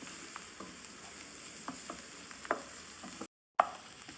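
Onions frying in a pan for chicken curry make a quiet, close sizzle, broken by a few soft stirring clicks and a brief cut near the end.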